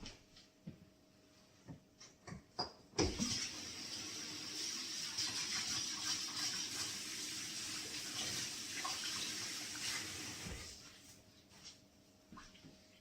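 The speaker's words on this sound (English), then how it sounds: "Let me wash my hands." Hands washed under a kitchen tap, water gushing steadily for about seven seconds between a few knocks and clatters of cupboards before and after, close and moderately loud, without speech.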